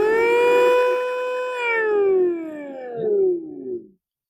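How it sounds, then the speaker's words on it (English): A Mini Cooper (R50, R52, R53) power steering pump runs close by as a loud, steady harmonic whine that then slides downward in pitch as it winds down over about four seconds, with no talking. "So now we can definitely know that pump is starting and working as expected"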